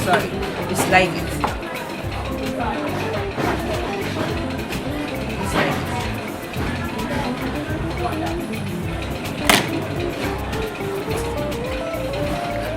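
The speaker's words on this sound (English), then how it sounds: "and then you dice it. You slide it." Irregular knife taps on a cutting board as a vegetable is diced, with a few sharper knocks amid background noise and some talk.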